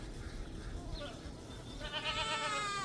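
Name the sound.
goats bleating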